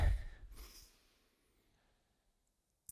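One deep breath during a relaxation breathing exercise, heard as a close, breathy exhale that fades into near silence.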